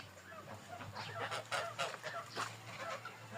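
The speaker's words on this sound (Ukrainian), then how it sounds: "у нас тут це мамути, порода гусей." Mammoth and Big Grey breed geese honking repeatedly in a noisy flock, several overlapping calls at moderate distance over a steady low hum.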